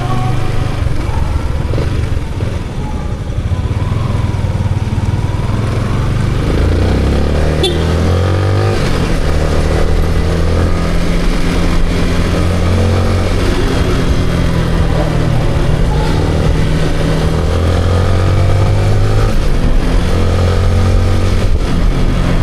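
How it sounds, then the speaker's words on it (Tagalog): A motorcycle on new tires hums steadily at cruising speed for the whole stretch, with shifting pitch as it rides along and constant wind and road rumble. "Ang ganda manakbo ng motor ko dahil sa bagong gulong."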